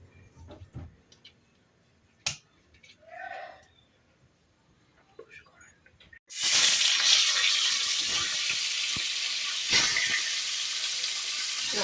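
Turmeric- and salt-rubbed tilapia pieces are dropped into a hot kadai. After a quiet stretch of faint clinks, a loud, continuous sizzle bursts in and holds steady to the end.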